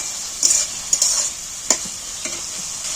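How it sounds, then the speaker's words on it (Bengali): Masala cooks down in oil in a pan, giving a bright, close sizzle with a few quick spatula stirs and scrapes over three seconds, and no one talking. "মশলাটা আমার কষানো হয়ে গেছে মশলা দিয়ে তেল ছেড়ে দিয়েছে"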